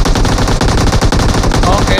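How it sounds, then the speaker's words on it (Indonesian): Rapid automatic gunfire in a PUBG Mobile custom-room match: loud, dense bursts of shots crackle back and forth in quick succession, with barely a pause between volleys. "Langsung ditembak, dibalas."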